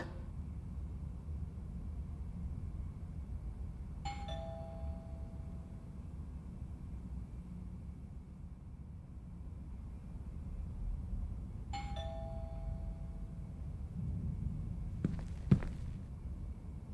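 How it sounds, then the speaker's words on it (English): A doorbell in the video game WITHIN rings twice, each a two-tone ding-dong, with the rings about eight seconds apart over a low ambient hum, followed by a few soft knocks or footsteps near the end. "I should just ring the doorbell, see if he answers."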